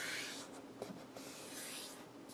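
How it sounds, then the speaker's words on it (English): A sheet of paper folded in half by hand for a no-sew booklet, giving a soft, close papery rustle and rub with a few light creases, quiet and alone. "Fold it right in half."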